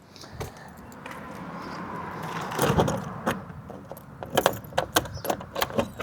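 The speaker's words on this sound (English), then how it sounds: "there's a couple of keys that open most things here" A bunch of keys jangles and clinks while old feed mill doors are unlocked, with a brief thump, then a clattering metallic rattle of keys growing busier near the end.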